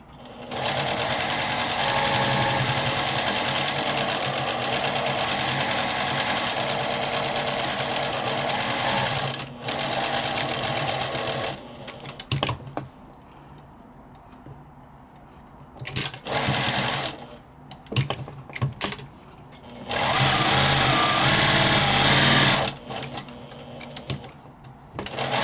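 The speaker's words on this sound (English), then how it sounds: "I'm going to backstitch just a little bit right there" Sewing machine stitching a flannel baby bib, running in a long steady loud burst, then shorter stop-start runs with pauses, one more sustained run near the end.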